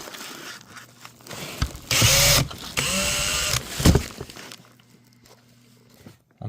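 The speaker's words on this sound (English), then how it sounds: "I'm using a drill because I don't want carpal tunnel anymore." An electric drill backs screws out of a worn luggage wheel in two loud, sustained whirring bursts with a short pause between, followed by quieter handling and clatter.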